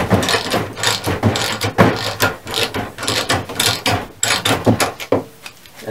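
Printer lift machine straining to raise a heavy printer: rapid, irregular mechanical clicking and ratcheting with creaks and rattles, loud and close, easing off near the end, with no talk.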